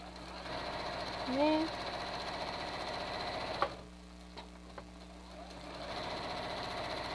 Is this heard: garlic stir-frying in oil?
no